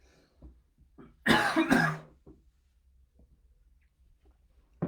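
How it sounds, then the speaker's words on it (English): A person coughs twice in quick succession, close and loud, amid an otherwise quiet room with faint small rustles. "Sorry for all the coughing and spluttering over here."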